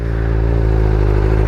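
A 2021 BMW M1000RR superbike with a flashed ECU idles at low revs, a loud, close, steady throbbing rumble with even pulsing and no talking.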